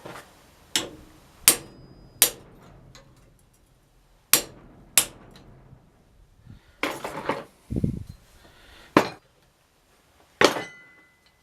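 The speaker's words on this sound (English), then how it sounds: "So, cold chisel." A cold chisel strikes metal in sharp, separate blows with irregular pauses while a heart-shaped hasp is being made, each ringing hit close and loud, with a duller knock and scrape in between.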